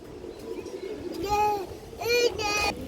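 Soft coos of homing pigeons rise and fall twice against a murmuring background, with voices nearby.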